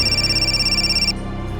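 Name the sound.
telephone ringing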